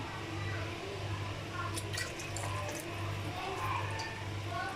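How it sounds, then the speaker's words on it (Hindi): Water is added to a thick kadhi batter of gram flour and turmeric in a kitchen, giving a faint, steady pour and squishy slosh close by, with no talk. "इसलिए मैं इसके अंदर पानी ऐड कर रही हूँ।"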